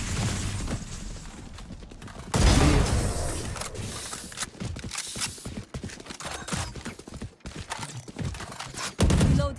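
Gunfire in the video game Valorant, with loud bursts and rapid volleys of shots mixed with other game effects, some louder blasts cutting in sharply.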